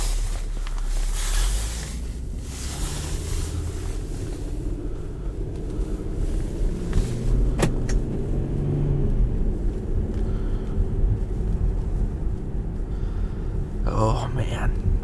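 A 2017 Infiniti QX50 pulling away, a low engine rumble with road and wind noise building steadily from inside the cabin while a person talks over it.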